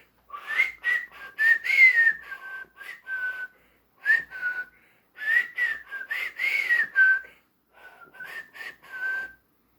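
A man whistles a tune in a horror film scene as he walks through a neighbor's yard, clear bright melodic phrases in several bursts separated by short pauses, close and alone.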